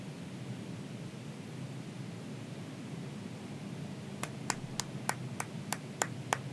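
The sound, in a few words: one person clapping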